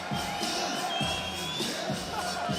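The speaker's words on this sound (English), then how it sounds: "French crowd loving it." At a Paris PFL MMA event, a big arena crowd cheers and roars, a continuous distant wash of voices with small surges, under a commentator's voice.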